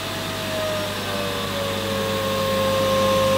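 A Karcher VC 6 vacuum cleaner running on maximum suction, making a loud, steady close-up whine and whoosh with a sustained high tone, alone and without talk.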